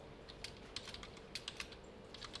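Quick keystrokes tapped on a computer keyboard, a short burst of a few key clicks then a pause and several more, close and fairly quiet over a steady low hum.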